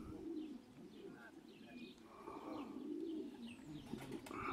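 Racing pigeons arriving at a loft give soft, low cooing over quiet outdoor background, with faint chirps and a light flutter of wings near the end, and a voice murmurs in the distance.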